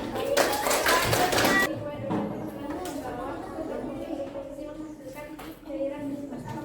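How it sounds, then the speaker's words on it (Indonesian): Classroom applause from students after a biology lesson answer, a burst of clapping in the first second and a half, then fading into murmured chatter and voices. "Tepuk tangan."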